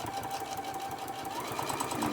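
A sewing machine runs a straight stitch around the edge of a fabric mug rug, a fast, even mechanical whirr heard up close without pause.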